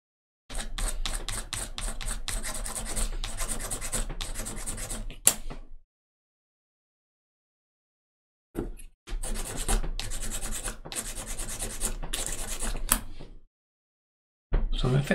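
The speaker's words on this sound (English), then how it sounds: "so you just have to kind of sand the edges in one" Tiny photo-etched metal parts for a 1/250 scale Yamato battleship model get their edges sanded, a close, brisk scratchy rubbing in two bursts of a few seconds each, separated by silence.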